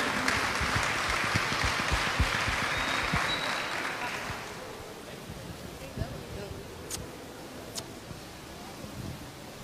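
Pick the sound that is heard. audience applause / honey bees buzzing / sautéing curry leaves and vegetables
audience applause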